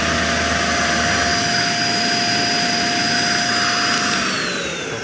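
Xiaomi SWDK KC301 wired dust mite vacuum cleaner with UV light running continuously, a loud close motor whoosh with a steady high whine that dips slightly near the end, no voices.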